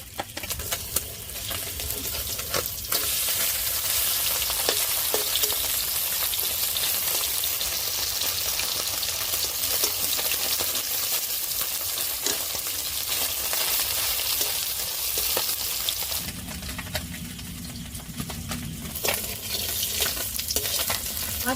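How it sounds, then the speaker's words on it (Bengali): Parshe fish frying in hot oil in a wok, a loud continuous sizzle and crackle that runs throughout, with brief shifts as the pan is handled near the end. "মাছটা ভাজা হয়ে গেছে এবার তুলে নেব"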